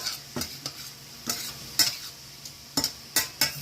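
Spaghetti noodles with a little olive oil being stirred in a pan, sharp scraping strokes at an irregular rhythm over a faint background sizzle, close and fairly loud, no voices.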